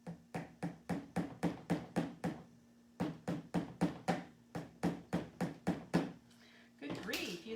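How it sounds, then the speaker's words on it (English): A hammer strikes again and again at close range in two runs of about ten evenly spaced blows each, with a brief pause between the runs and a short rustling noise at the end. "you'd think it'd go through with this hammer"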